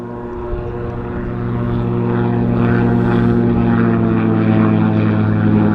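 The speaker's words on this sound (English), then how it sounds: "highlight of the day is a plane taking off from the water" A seaplane takes off from a lake, its propeller engine droning steadily with strong low harmonics and building slightly in loudness as it powers across the water, with no talk over it.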